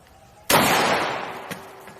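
A single sharp gunshot cracks close by and trails off into a fading echo over about a second and a half, with a faint second report partway through.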